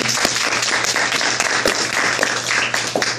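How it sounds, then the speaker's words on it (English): A banquet audience claps for the officer team, a loud, dense burst of many hands close by, steady throughout with no voices on top. "So please give them a round of applause too."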